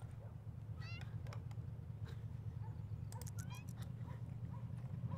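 Cat meowing in a video game, a few short, faint, high meows scattered over a steady low background hum, with a brief quicker run of mews partway through.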